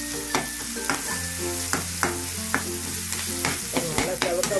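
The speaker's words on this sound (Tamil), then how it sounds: "தக்காளி வெங்காயம் நல்லா வதங்க கொடுக்கணும்" Tomato and onion sauté in a pan, a soft sizzle punctuated by regular scraping clinks of a spatula against metal, close and without talk.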